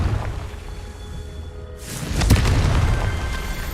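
A Confringo spell explodes in the video game Hogwarts Legacy, a sudden heavy boom that bursts out after a quieter stretch and rumbles on loudly before easing.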